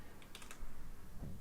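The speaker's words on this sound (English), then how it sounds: "we'll just go to the address bar and type in" A short, faint burst of computer keyboard typing, a few quick key clicks heard close up while entering a web address.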